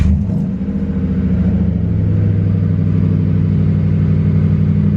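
A 2004 Ford Crown Victoria engine with cat delete and single-chamber Flowmaster mufflers turns over and settles into a loud, throaty idle with a deep, steady exhaust rumble.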